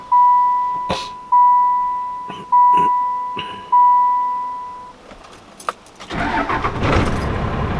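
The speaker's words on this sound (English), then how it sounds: "But let me start it up for you guys." Four repeated warning chimes with clicks, then a 1995 Dodge Ram 3500 dually's 12-valve Cummins diesel engine cranks and catches, settling into a loud, rough idle.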